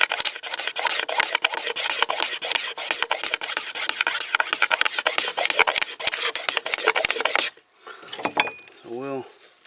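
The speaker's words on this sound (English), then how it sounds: "Once you get past that, now you can actually start to get some shavings." Bamboo scraped with a blade to raise fine shavings for a bamboo fire saw: a loud, fast run of rhythmic rasping strokes for about seven seconds, then quieter scuffing with a brief squeak.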